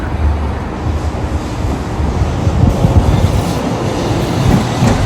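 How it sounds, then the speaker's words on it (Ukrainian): A tram rolls along its rails through a Lviv street, a loud, close, continuous rumble with clattering wheel noise that swells slightly mid-pass, with no voices over it. "трамвайчик твій любимий"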